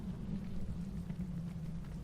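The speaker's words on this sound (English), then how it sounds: "It's raining cats and dogs." Steady, dense rain from the video game Secret Files: Tunguska, set in Ireland, falling as a continuous low rumbling wash that holds at an even level throughout, with no voices over it.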